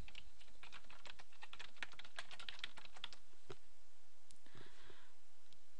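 Typing on a computer keyboard while entering a project title in bibliography software, a rapid close run of key clicks that thins out to a few scattered taps near the end, no talk.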